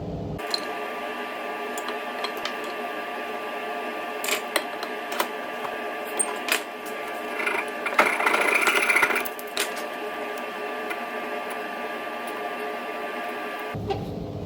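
A saw cuts a tenon shoulder on a wooden rail for a replacement sash window, giving a steady close buzzing drone with small ticks and a brief louder burst of cutting near the middle.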